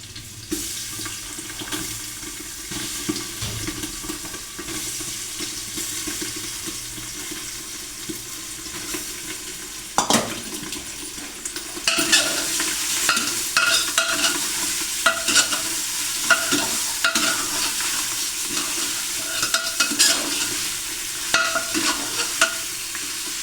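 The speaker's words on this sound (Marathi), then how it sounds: "त्याच्यात हळद आणि मीठ लावलं मटण टाकून घेतलं" Mutton coated with turmeric and salt sizzles and is stirred in hot oil with chopped onions for a spicy village-style curry. A steady close frying hiss with scraping stir strokes grows louder partway through, and no one speaks.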